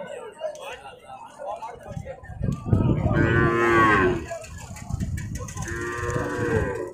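Heifer calves at a cattle market give two long, loud, close moos over crowd chatter and someone talking. Other livestock and market noise fill the background.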